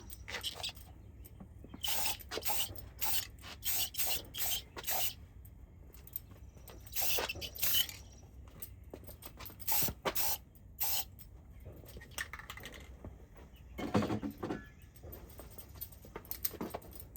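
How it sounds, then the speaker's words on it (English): Aerosol spray can applying coating to a Zenith 9-S-262 tube radio chassis in repeated short hissing bursts, separated by brief pauses and handling noises nearby. "Notice I'm trying to not spray toward my transformer."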